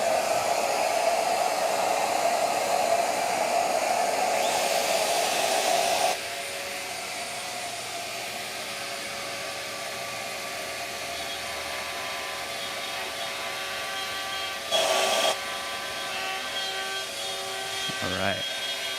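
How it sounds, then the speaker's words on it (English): A shop vacuum clears wood chips after mortising, a loud steady whine that drops to a lower, quieter hum midway and carries on with brief bursts of rushing noise as it sucks up debris. "Hit the vacuum here."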